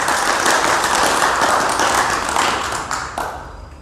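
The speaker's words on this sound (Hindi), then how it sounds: "ताली बजाओ तो ऐसी बजाओ आदित्यनाथ योगी तक आवाज जानी चाहिए आपकी" An audience at a devotional music gathering claps loudly and continuously as a crowd, the dense applause tapering off toward the end.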